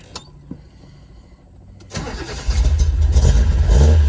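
A warmed-up Datsun 240Z with an old electric fuel pump cranks after a quiet pause, catches, and settles into a loud, rumbling idle that builds toward the end.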